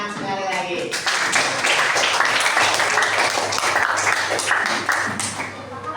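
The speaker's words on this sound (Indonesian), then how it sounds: "Beri tepuk tangan sekali lagi" A classroom of pupils clapping together during a lesson, a fairly loud, close burst of rapid hand claps lasting several seconds with chatter underneath.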